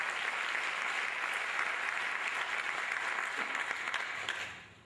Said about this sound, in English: you can give God a round of applause for that one.